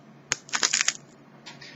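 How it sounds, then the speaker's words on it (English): Small squid-flavored puffed snacks crackling as they are crushed, a short sharp crack followed by a quick cluster of brittle crunching pops, close and fairly quiet, with a fainter rustle afterward. "So that's the sound of the puffs crackling"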